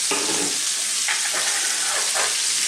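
Roughly chopped red onion frying and being stirred in a pan for a slow-cooked lamb, tomato and rosemary dish, with a steady close sizzle and a few scraping stirs of the spoon.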